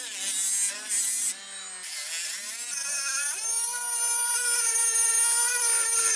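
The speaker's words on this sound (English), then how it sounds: "We grind it down just to the threads, but not lose the threads." A grinder works down a threaded boss on a K24 engine part in a right-hand-drive Cefiro RWD conversion, giving a steady, loud high-pitched whine that briefly drops and changes pitch before resuming.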